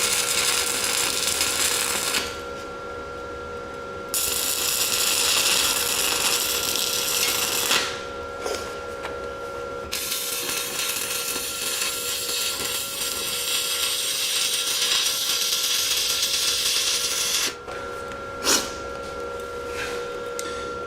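SIP Autoplus 130 welder stick welding very thin metal with a 1.6 mm rod, a harsh steady crackling hiss in bursts separated by short pauses, close and fairly loud with a faint electrical hum throughout.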